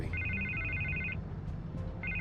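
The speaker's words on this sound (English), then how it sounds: "I can't get the phone to stop ringing." A telephone rings in Batman: The Telltale Series, two electronic trilling rings separated by a short pause, clear and close over a low background hum.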